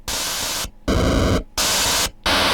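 Four harsh bursts of FamiStudio chiptune noise channel hiss, separated by short gaps, with one burst carrying a buzzy, pitched edge.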